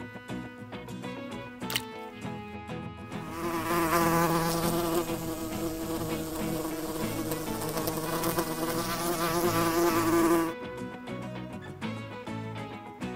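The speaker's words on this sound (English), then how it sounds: "Hornet." A hornet buzzing steadily and loudly up close for several seconds, with a tonal, droning hum that rises in and then cuts off, fainter buzzing before and after.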